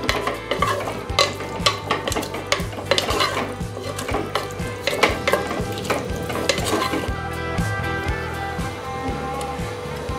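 A spoon stirs aviyal with curd and curry leaves in a pot, scraping and clinking in a steady irregular rhythm over a soft simmering sizzle, close and clear with no talking.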